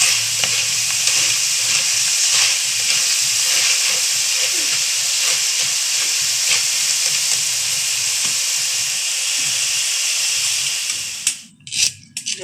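Chana dal frying in hot oil in a kadhai, a loud, steady, close sizzle and hiss with faint stirring underneath, breaking off near the end.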